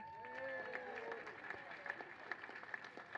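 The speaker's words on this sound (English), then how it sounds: "an extra big round of applause for the coach that we all love, George Bauscher" Audience clapping for a junior rowing coach at the Henley Women's Regatta 2016 awards ceremony, a steady, moderately loud round of applause with some brighter individual claps and a voice heard over it early on.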